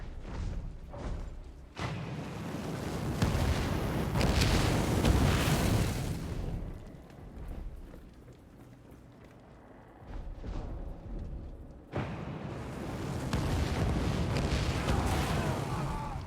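Cannons fire during a Total War: Warhammer battle in a Mortal Empires co-op game with Noctilus and Cylostra. Loud blasts and rumbling booms come in long rolling bursts over a constant roar of battle, easing briefly before swelling again.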